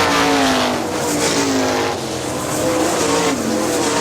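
410 sprint cars at Hartford Speedway Park oval in Michigan roar past in a loud, sustained engine howl with rising and falling pitch as they race through the turns.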